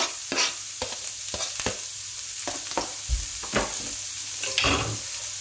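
Shallots fry in a hot pan with a steady broadband sizzle, broken by several sharp scraping stirs spread across the clip; close and fairly loud, no voices.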